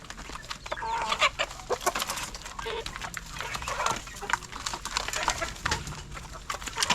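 Pet chickens cluck and squawk around feeding time on a rainy day, with a dog barking in between; a busy, continuous mix of close bird calls without talk.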